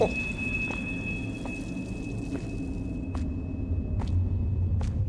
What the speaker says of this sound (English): This is what I heard in the main hallway as the winds were ripping through during the storm.